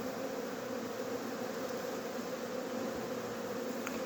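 Many honey bees hum at the hive in a dense, steady buzz close by, a continuous swarm drone with no talking.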